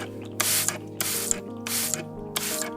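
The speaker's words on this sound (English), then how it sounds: "So we're gonna spray her again" A makeup setting spray is misted onto a face in four quick, hissing pumps, each a short airy burst, close up against a low steady background hum.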